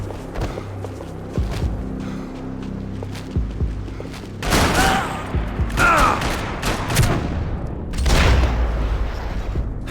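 Gunfire in a Max Payne 3 shootout: several bursts of shots and booms, loud and close, clustered around the middle and end of a noisy combat scene, with some shouted voices mixed in.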